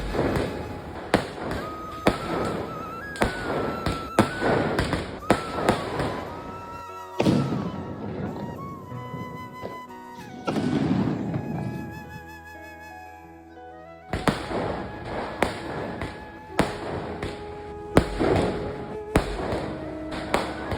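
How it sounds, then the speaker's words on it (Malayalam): Diwali sparklers and firecrackers go off outdoors as sharp cracks and thumps, some close and loud and others farther off, with a few hissing and whistling stretches between bursts. "ഇനി നമുക്ക് കുറച്ച് കമ്പിത്തിരി പൂത്തിരി മത്താപ്പും അതുപോലെ പടക്കമൊക്കെ കാണാം കേട്ടോ"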